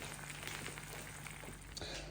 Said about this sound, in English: Can you hear it sizzle?